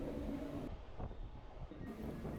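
Low, muffled rumble of a moving local train at Virar station in Mumbai, quiet and steady with wind buffeting the microphone and no voices.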